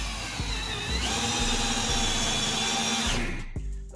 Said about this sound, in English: So you're gonna get the drill.